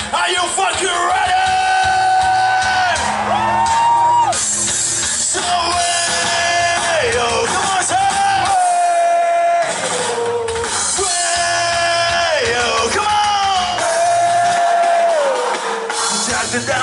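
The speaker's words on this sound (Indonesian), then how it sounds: "teriakan kalian sekeras-kerasnya untuk Kuta Beats Festival malam ini" A large festival crowd yells and cheers loudly over a rock band's music at the Kuta Beach Festival 2018 concert, a dense, continuous wall of shouting voices blended with the amplified performance throughout.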